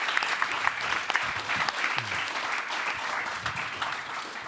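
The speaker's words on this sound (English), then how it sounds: "how about a round of applause for these gentlemen right here?" Audience applause, a steady wash of many hands clapping at moderate volume, continuing without pause.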